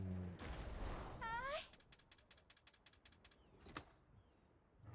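A cat gives a single short, rising meow, followed by a run of quick mechanical ratcheting clicks and then quieter scattered ticks. Everything is faint.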